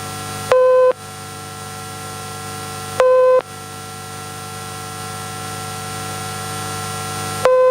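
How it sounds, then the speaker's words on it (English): Three short steady beep tones, each about a third of a second long, spaced apart over a constant static hiss as the counting stimuli of an elevator attention test. "Count the tones and say how many."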